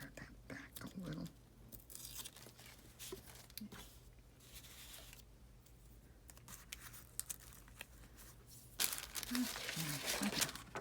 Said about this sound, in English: Maybe I'll tear that back a little.